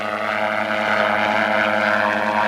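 An overloaded ultralight aircraft runs its engine at a steady, droning full power while taking off along a long runway, heard close and continuous.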